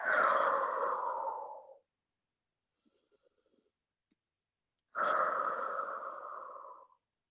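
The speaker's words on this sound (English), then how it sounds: "Big breaths." Deep, slow yoga breaths, two long audible exhalations separated by a quiet pause, close and steady with a breathy hiss.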